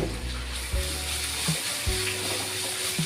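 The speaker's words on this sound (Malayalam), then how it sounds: "ഇതൊന്ന് മൂത്ത് വരണം വരെ ഒന്ന് ഇളക്കി കൊടുക്കുക." A paste of ground garlic, pepper, cumin and turmeric frying in a pan for tomato rasam, a steady close sizzle with a few short clinks and scrapes of stirring.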